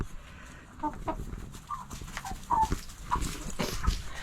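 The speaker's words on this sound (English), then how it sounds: "with the Cornish meat cross birds" Cornish cross meat chickens give several short, scattered clucks at close range against quiet outdoor yard ambience, with faint background noises between the calls.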